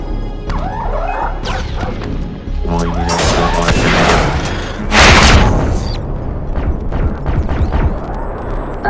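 Several grenades blow up in the shooter game Far Cry 3 Blood Dragon, a run of heavy crashing booms with one very loud close blast midway over a dense, rumbling game soundscape.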